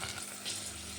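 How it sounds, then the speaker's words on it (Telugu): Ginger garlic paste frying in a pan with cashews and green peas, a steady close sizzle that holds evenly throughout with no talk. "ఇప్పుడు అల్లం వెల్లుల్లి పేస్ట్ యాడ్ చేసుకున్నాం కదా, పచ్చి వాసన పోయే వరకు ఫ్రై అయిపోయింది కదా."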